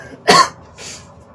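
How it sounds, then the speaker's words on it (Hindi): A single sharp cough bursts out close to the microphone, followed a moment later by a softer, shorter throat-clearing breath. "पता नहीं खांसी हो गया।"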